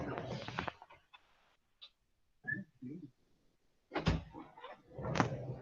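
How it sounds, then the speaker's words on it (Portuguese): A cat knocking on a door at home: scattered knocks and thumps come in short bursts separated by quiet gaps, close and fairly clear, with a few faint vocal sounds in between. "mas é a gata aqui batendo na porta."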